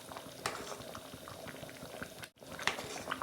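A whole chicken boiling in curry gravy, with a steady bubbling and popping close by, brief louder bursts throughout and one momentary dropout, with no voices.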